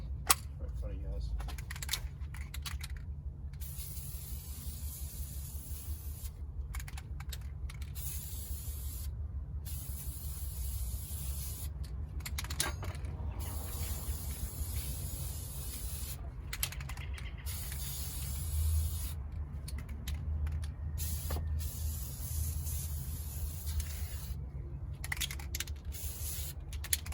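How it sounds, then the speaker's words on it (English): A spray can hisses in bursts while coating a Subaru WRX brake caliper outdoors, with steady spraying broken by short pauses and a person talking over it. "I'm just gonna finish doing the spraying and then I'll add the gloss color to it"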